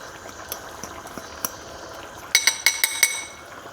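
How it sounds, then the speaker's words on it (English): A utensil stirs extra virgin olive oil in a bowl, giving soft scattered taps followed by a quick run of sharper clinks against the bowl, close and fairly quiet. "We'll go 3 tablespoons of extra virgin olive oil. And we're just gonna stir that up."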